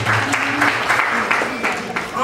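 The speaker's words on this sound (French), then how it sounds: "des applaudissements pour lui" Audience applause for a speaker at an orientation day event, moderate clapping from a crowd, steady with a few sharper claps, and a voice speaking underneath.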